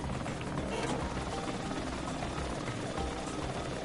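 Helicopter rotor from LittleBigPlanet 3, modeled on the original LittleBigPlanet helicopters, a steady loud whirring wash that fills the scene without pause, with people talking over it.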